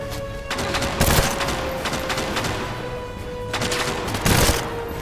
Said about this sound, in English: Who's she shooting at?